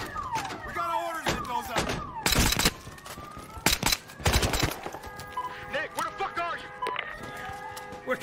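Gunfire in the Battlefield Hardline shooter game: loud bursts of shots and sharp impacts mixed with game effects and tonal sounds, while voices shout over the action.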